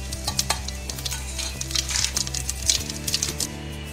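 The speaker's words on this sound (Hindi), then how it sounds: "तेल हमारा गरम हो गया है, देखिए इसमें से धुआं निकल रहा है, तो मैं इसमें ये जीरा डाल देती हूँ" Cumin seeds crackle and sizzle in smoking-hot oil inside a pressure cooker, a steady close frying hiss dotted with sharp pops and a few light metallic stirring clinks.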